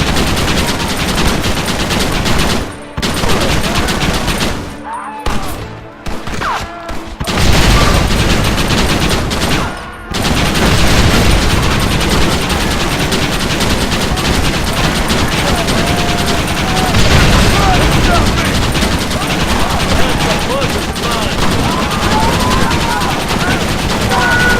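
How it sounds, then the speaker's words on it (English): A Gatling gun roars in Red Dead Redemption, loud continuous rapid fire with a few brief pauses early on, then a long unbroken barrage, with shouting voices mixed faintly into the battle din. "You man the Gatling gun, Marston!"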